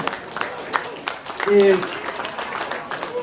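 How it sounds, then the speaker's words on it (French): Scattered clapping from a crowd at a vineyard harvest event in the Clos des Amoureux, brief and moderate, mixed with someone speaking over it. "je pense qu'on peut l'applaudir, on peut lui dire bravo"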